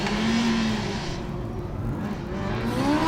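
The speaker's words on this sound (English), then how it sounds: "a little power slide there from car number 97 as they cross the line" Car number 97, a Formula Student autocross race car, power slides across the finish line, its engine note rising and falling close by, with a brief tyre scrub as it passes.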